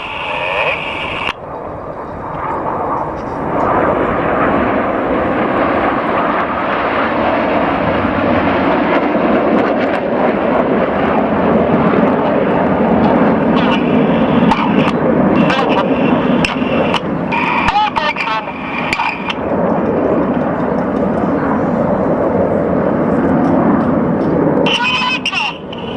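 Red Arrows jets fly a formation display at the Cosford airshow, banking left while changing smoke colour. Their roar is a loud, continuous broadband rush lasting the whole stretch, with a voice talking over it.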